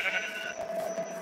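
Goat bleating in the Minecraft video game, a single drawn-out, wavering bleat heard clearly and fairly close with no talk over it.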